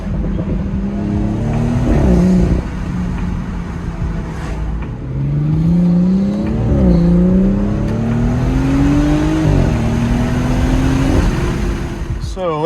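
BMW M240i with a B58 engine on a road drive, its engine note rising through several acceleration runs with gear changes in between, steady and close throughout.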